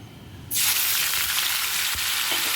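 Ginger-garlic spice paste drops into hot oil flavored with crushed cardamom for a fish curry, a sudden loud sizzle bursting in and then frying on steadily and close.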